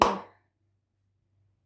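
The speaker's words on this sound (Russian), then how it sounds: "берете вот так вот в ладоши, вот. И вот так вот хлопаете" One sharp, loud hand clap, cupped palms struck together, snaps out at the start and decays quickly into near silence.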